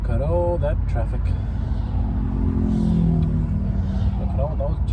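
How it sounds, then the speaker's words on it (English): Steady road traffic on a motorway heard from inside a moving car, with a continuous low engine and tyre rumble and vehicles passing, while people talk and sing throughout. "Look at all that traffic."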